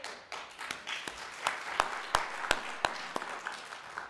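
Audience applause for a speaker at a health-care talk for employers, a dense wash of many hands clapping with a few sharper claps and a brief cheer standing out, steady and fairly close for the whole span.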